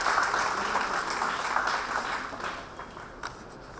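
Audience at a school Hindi Day ceremony applauds a flower-bouquet welcome, a crowd's clapping that starts full and steady, then thins and fades toward the end with a few scattered last claps.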